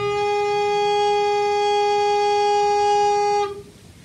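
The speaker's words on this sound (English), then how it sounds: "And if you play the recorder with such a relaxed and open throat," A recorder is sustained on a single steady note with a relaxed, open throat, giving a clear pure tone with strong overtones that holds evenly for about three and a half seconds, then stops, leaving quiet room tone.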